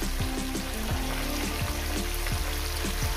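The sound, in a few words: yardlong beans frying in a pan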